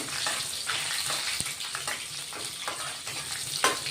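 Steady crackling sizzle of garlic frying in hot oil as a tempering for a vegetable dish, with a few sharper pops and clinks of a utensil stirring the pan.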